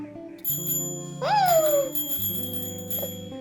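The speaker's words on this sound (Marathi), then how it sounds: "हा बेल वाजवून दाखवा." A bicycle bell gives one bright ring that fades quickly, standing out over soft steady background tones.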